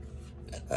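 A single short, low, gravelly burp from a person, close and fairly quiet, rumbling for under a second and ending with a slightly brighter, tonal rise.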